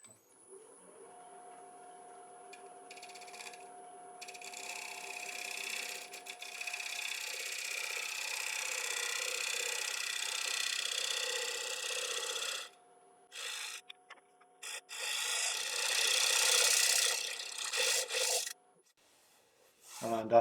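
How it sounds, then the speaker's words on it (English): A small spear point scraper works a split oak platter spinning on a lathe, giving a steady, close rasping scrape with a few short breaks and a quieter stretch near the end. "I'm just going to switch over to a little spear point scraper and just see if I can improve this surface a little bit."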